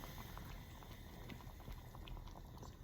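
Quick chicken curry simmering gently in a pan, a soft, steady bed of fine bubbling and faint popping, close and quiet, with no voices.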